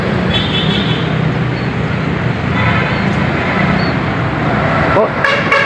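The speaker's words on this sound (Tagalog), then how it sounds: "Ayun, may mga dumadaan na sasakyan, oh." Cars and trucks pass along a roadside, continuous loud traffic rumble with swelling passes and a brief sharper burst near the end; a person talks over it.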